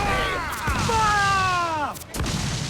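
Ship cannons in a naval video game fire in a few heavy booms, one right after another, while a voice shouts over the battle.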